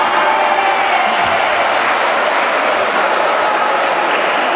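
An audience at a senior beauty pageant applauds a newspaper's administrative director as she joins the judging panel, the clapping loud, dense and continuous throughout.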